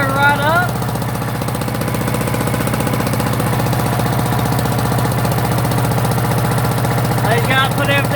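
A wood chipper's small gasoline engine runs steadily right after a carburetor rebuild, a loud, close, even idle with a rapid knocking pulse throughout; brief tonal whines rise near the start and end.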